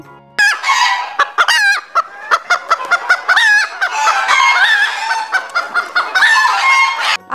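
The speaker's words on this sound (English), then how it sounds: "H for hen" A hen and rooster cluck and crow in a busy, close burst of poultry calls: rapid clucks and squawks follow one another in uneven rhythm, with longer crowing-like cries rising among them, loud and without speech.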